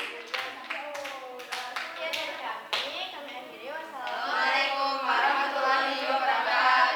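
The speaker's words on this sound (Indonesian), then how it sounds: "Tepuk tangan untuk kelompok Newton ya." A class claps for a student group during a physics lesson. Several short claps are heard early, partly under voices that keep talking throughout.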